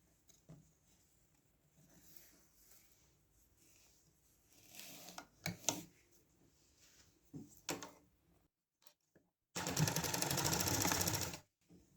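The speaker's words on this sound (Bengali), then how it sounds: "এখন এটিকে সেলাই করব।" A sewing machine runs in one steady loud burst near the end while stitching a ribbon strip of fabric for a petticoat, after quieter clicks and handling of cloth.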